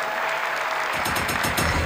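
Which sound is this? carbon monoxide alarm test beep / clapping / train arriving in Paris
clapping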